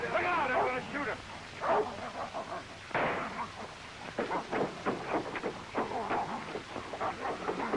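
Rin Tin Tin, a German Shepherd, barks repeatedly in a series of sharp yaps mixed with excited voices and scuffling, on a noisy, hissy old film soundtrack.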